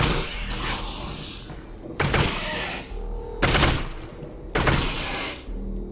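Four loud, sharp bursts of gunfire at regular intervals in the VR game Half-Life: Alyx, each ringing out with a short echo, separated by quieter game ambience.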